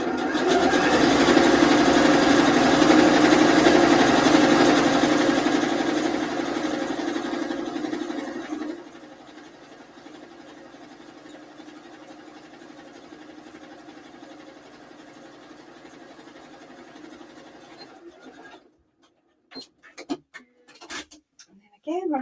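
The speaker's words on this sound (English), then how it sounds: "Again, running this through my overlocker." An overlocker sewing machine stitching cotton fabric hums loudly and steadily at the start, then runs more quietly before stopping, followed by a few faint handling clicks.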